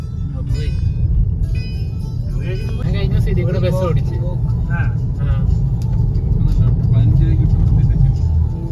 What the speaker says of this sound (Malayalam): നമ്മളിപ്പോൾ യാത്ര ചെയ്യുന്നത് എം ജി വിൻസറിലാണ്